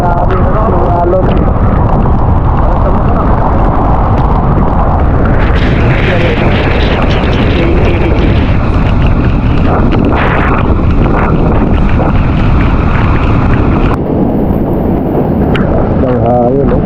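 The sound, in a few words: strong sea waves crashing on the shore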